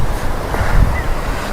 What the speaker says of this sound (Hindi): नीचे नीचे आवाज आ रही है पानी की,